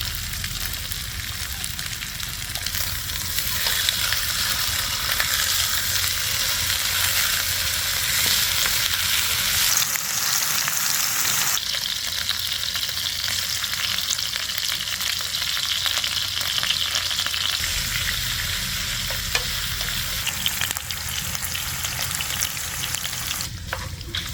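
Pork belly stir-frying with roasted chili paste in a pan gives steady, loud sizzling and crackling oil with scraping stirs that come and go, continuing without pause for over twenty seconds.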